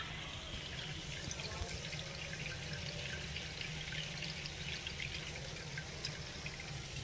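Rice being rinsed in water in a home kitchen, with a steady pouring and splashing wash running continuously at moderate level with no talk.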